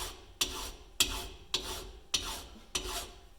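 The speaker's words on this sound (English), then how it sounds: "I'm just going to take a file and clean it up" A hand file rasps across the metal of a GMC motorhome intake manifold in five steady forward strokes, each a gritty scrape with a crisp start, close and fairly quiet.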